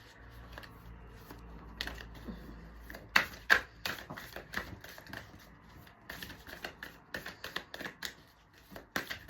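Tarot cards being shuffled in short, crisp bursts of riffling and flicking, close and fairly soft, with irregular pauses between sharper card snaps.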